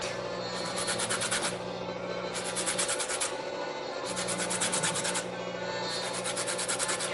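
Citrus peel grated on a hand grater for a New York cheesecake, in three long bursts of steady rasping scrapes with short pauses between, close and fairly loud, with no talking.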